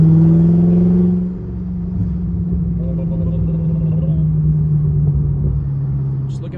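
A BMW F10 M5 with Turner muffler deletes cruises off throttle in fifth gear, its exhaust giving a deep, steady rumbling drone with a low engine hum under continuous cabin noise.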